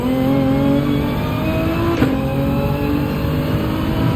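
A Nissan GTR race car in a racing video game holds a steady, loud engine drone, the tone climbing gradually with one brief click partway through.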